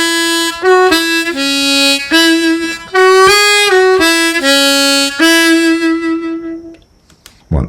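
Old-time harmonica plays two linked phrases of "Going up to Hamburg" alone, with steady held chords, single-note scoops and short gaps between notes, before fading out at the end.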